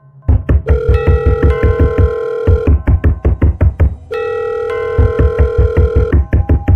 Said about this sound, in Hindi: उसके पॉकेट में रखा फ़ोन अचानक बजने लगा।